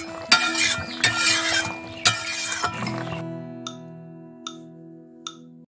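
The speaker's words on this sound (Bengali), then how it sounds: "মাছগুলো দিয়ে হালকা একটু নেড়ে আবার কিছুক্ষণ ফোটাতে হবে" A spoon stirs rohu fish pieces through a simmering spicy red curry in a pot: three or four scraping strokes, then several light metallic clinks against the pan, close and clear with no talking.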